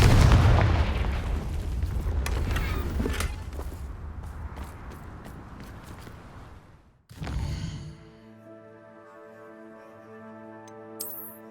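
Crackling, rapid-fire blasts from the Confringo blasting spell in the Hogwarts Legacy video game burst and rumble for several seconds, then cut out and give way to a quiet, sustained game music tone.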